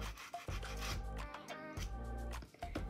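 Dip-powder nails being buffed with a nail buffer, close and quiet, with repeated short scratchy rubbing strokes in an uneven back-and-forth rhythm.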